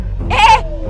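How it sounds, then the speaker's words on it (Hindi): A single short, loud dog bark, close and clear, rising sharply and then cut off, with faint background hum. "भौंकना बंद कर"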